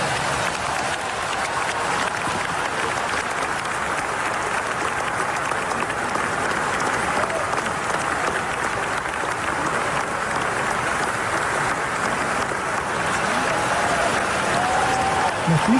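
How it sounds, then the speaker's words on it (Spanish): Thunderous, sustained applause from thousands of oncologists at a cancer research congress, a dense wall of clapping with a stadium-like roar that holds steady and loud throughout. "Fue una ovación, pero tremenda, entre miles de oncólogos, los más grosos del mundo, aplaudiendo tipo cancha."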